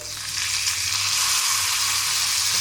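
Salmon escalopes fry in a pan, giving a steady, close sizzle that holds evenly throughout with a low background hum beneath and no talking.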